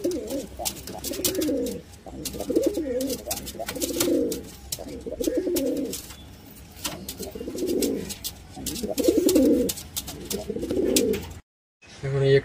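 Madrasi pigeons in a loft coo close by in repeated rolling phrases about every second or two, continuing for several seconds before a brief cut near the end.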